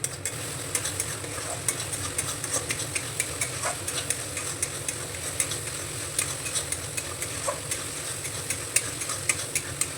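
Ground spices, turmeric, cumin and coriander, fry in oil in a pan for spinach curry, giving a steady close sizzle with rhythmic scraping and tapping of a spoon stirring throughout.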